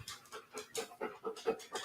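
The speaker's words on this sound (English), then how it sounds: "My son's dog is here again." A dog pants close by in quick, rhythmic breaths, about seven bursts in under two seconds, steady and fairly loud with no talking over it.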